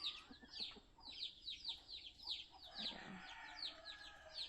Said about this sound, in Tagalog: Siyap ng siyap na mga sisiw. Mukhang gutom na.